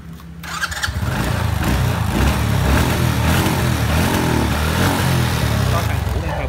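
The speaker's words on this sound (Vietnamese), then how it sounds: "Bô đang nổ xịt xịt xịt nè anh em" A used motorcycle engine fires up within the first half-second and then runs loud and close, its exhaust sputtering in a steady, rapid chugging rhythm to the end.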